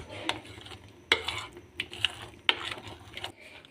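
Spoon scraping and clinking against a bowl while mixing thin paratha batter paste with vegetables, a few sharp taps over soft stirring, close and fairly quiet.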